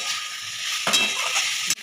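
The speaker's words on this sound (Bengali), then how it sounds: "এবার আলু ফুলকপিটা খুব ভালো করে কষিয়ে নেব।" Potato and cauliflower pieces are stir-fried over high heat, a dense, close sizzling hiss interrupted by a couple of scraping stirs, with no talk.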